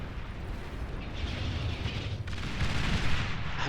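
Aircraft bombing runs in the real-time strategy game Beyond All Reason produce a dense, continuous rumble of overlapping explosions that swells louder toward the end.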